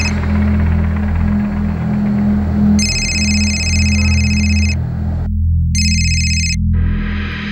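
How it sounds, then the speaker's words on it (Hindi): A phone rings unanswered, sounding two bright electronic ringtone bursts separated by a short gap. A steady low drone plays underneath the rings. "सिर्फ रिंग बज रही है, कोई उठा ही नहीं रहा।"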